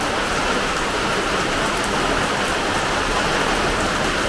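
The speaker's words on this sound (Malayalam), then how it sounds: "മഴ വീണ്ടും" Steady, dense rain falls continuously at a home in Pathanamthitta, Kerala, a close, even hiss of drops on surfaces with no pauses and no voices.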